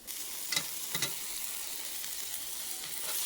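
Frozen jalapeño and Tabasco peppers drop into hot sofrito and fry with a loud, steady sizzle, with a few soft stirring knocks and no talking.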